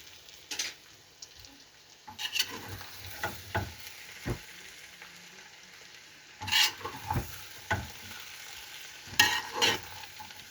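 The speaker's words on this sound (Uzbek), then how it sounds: "Yaxshilab tegi bilan aralashtiramiz." Plov (osh) being stirred thoroughly from the bottom of a pot in a home kitchen, a soft background sizzle with irregular clattering scrapes and knocks of the spoon against the metal, some bursts louder than others, close with no speech.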